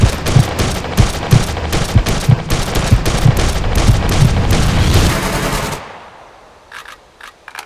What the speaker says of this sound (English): The second example shows how well a character can control the recoil of the rifle,